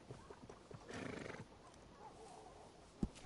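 A horse neighs in a brief whinny amid light hoof clops, faint and somewhat distant, followed by a sharp thump, in the game Red Dead Redemption.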